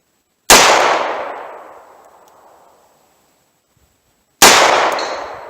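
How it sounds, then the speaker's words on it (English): Two sharp, loud reports from a .38 Special pocket revolver fired at long range, each ringing out and then decaying slowly over several seconds, with a gap of about four seconds between them and no talk. "I'll do 10 rounds of each and see if I get any hits on that tank"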